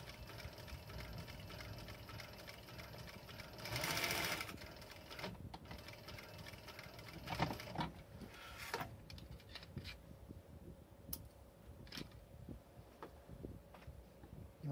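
A treadle-driven sewing machine stitches leather, heard as faint mechanical whirring and ticking in uneven bursts and pauses, with quiet knocks and clicks from handling the work.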